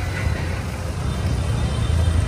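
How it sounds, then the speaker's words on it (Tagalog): Road traffic on Recto street in Manila's Divisoria district, a dense low rumble of passing cars and engines with a steady roadway wash and a voice faintly mixed in. "medyo nagkakaroon na ng volume ng traffic dito sa Recto"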